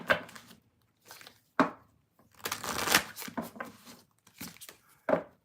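Tarot cards are shuffled close up in several short, crisp bursts of riffling and slapping, separated by brief pauses, with no talking.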